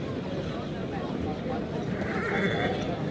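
A Marwari horse neighs amid a dancing horse competition finale, whinnying and hoofbeats mixed into a loud, dense crowd and public-address announcement that carries on throughout.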